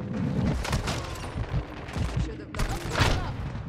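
Rapid bursts of automatic gunfire from Call of Duty Modern Warfare 2 in a Search and Destroy match, with repeated volleys across the stretch and a short break midway, mixed with game sounds.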